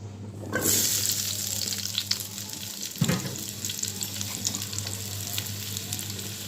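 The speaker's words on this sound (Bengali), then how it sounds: "এখন পেঁপে আর আলুটাও ভেজে নেব দিয়ে দিলাম তেল" Papaya and small potatoes frying in hot oil in a pan, a dense loud sizzle that flares up as they go in and continues steadily with occasional clinks of a utensil, close and with no talking.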